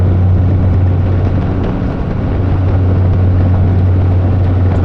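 A diesel truck with exhaust stacks and a 5-speed transmission cruises at a steady engine speed under 1,900 RPM, giving a loud, constant low drone that holds even throughout, with no talking.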